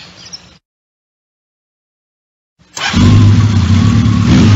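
A round-the-world touring motorcycle engine. A faint rumble cuts out into two seconds of silence, then the engine bursts into a loud, steady running roar close by.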